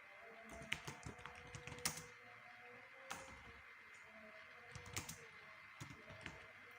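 Quiet computer keyboard typing of a Docker command in a Linux terminal, with scattered key clicks in short irregular bursts and pauses, close but faint, with no voice.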